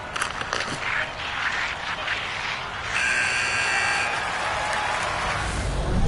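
In the NHL 25 ice hockey video game, a sustained electronic end-of-period buzzer blares over crowd noise and arena ambience before giving way to the crowd's continuing roar.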